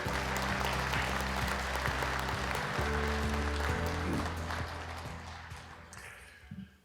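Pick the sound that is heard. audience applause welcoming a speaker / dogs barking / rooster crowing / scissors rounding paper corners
audience applause welcoming a speaker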